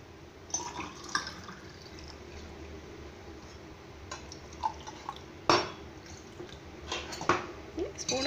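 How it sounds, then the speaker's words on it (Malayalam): Water goes into a glass of lemon juice with soft liquid splashes and a few sharp clinks of glass or spoon against a vessel, close and intermittent, with faint background noise and no clear talking. "ഇനി ആവശ്യത്തിന് വെള്ളം ചേർത്ത് കൊടുക്കാം"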